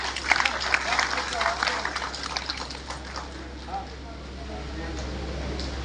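An audience at a religious spiritual gathering gives a burst of clapping that fades over a few seconds, mixed with speech.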